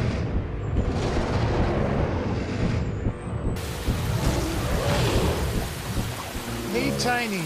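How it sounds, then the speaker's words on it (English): Heavy rain pours down steadily while thunder rumbles and cracks through it, loud and close, with a brief swell of storm noise midway and a short high tonal sound near the end. "you must stop the rain"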